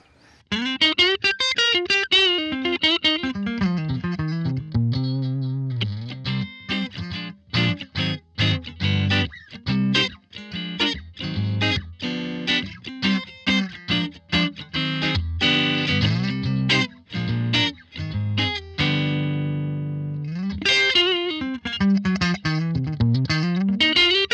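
Distorted electric guitar on the neck pickup, played through a Line 6 Helix amp modeler with no reverb or EQ, plays a lively rockabilly riff with bends and quick notes, a crunchy amplified tone.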